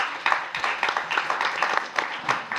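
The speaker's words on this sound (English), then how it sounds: "Time for applause." Audience applause at a panel discussion on growth, climate change and poverty, a steady, moderately loud patter of many hands clapping with no talk over it.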